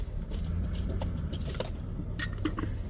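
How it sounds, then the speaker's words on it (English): A truck loaded with propane tanks moving along a street, a low rumbling engine with intermittent rattles and scrapes, heard from nearby outdoors. "it's the truck that's full of the propane tanks"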